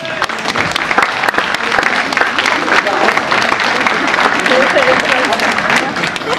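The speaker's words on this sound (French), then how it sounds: "Et je crois qu'on peut les applaudir encore chaleureusement" Warm applause from a crowd at a dance afternoon fills the room, thick and continuous from start to finish without letting up.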